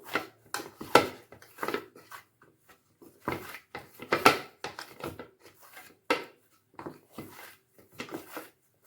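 Chapati dough being kneaded firmly by hand, pressed hard again and again: soft, close thuds and squishing rubs come in an irregular rhythm with short pauses, and no one talks.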